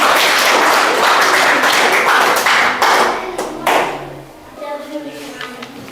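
Students in a classroom clap for a classmate, with a burst of close, brisk clapping that thins out and gives way to a voice speaking.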